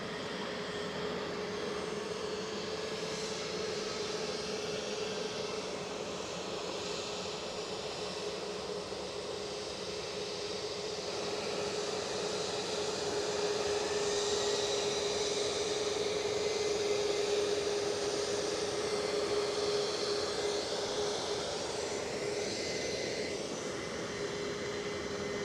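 A British Airways airliner approaching Edinburgh Airport, a steady distant engine roar with a sustained tonal whine that swells gradually and stays broad and even, no voices.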